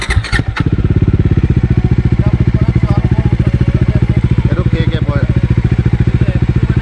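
A Bajaj Pulsar 180F motorcycle fitted with an Akrapovic exhaust runs close and loud, its engine firing in a rapid, even throbbing pulse with a sharp clatter at the start and a slight rise in pace near the end.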